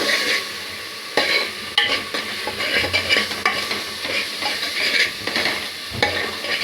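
Mutton keema stir-fried in a pan with coriander-cumin powder and Kashmiri red chilli, a loud constant sizzle broken by repeated scraping stirs of a spatula, close up with no talking.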